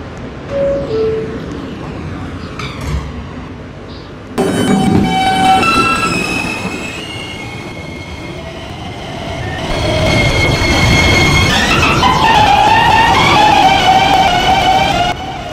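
A 7 line subway train runs loudly, its wheels rumbling and screeching along the rails and a horn sounding, while high metallic squeals rise and bend through the second half.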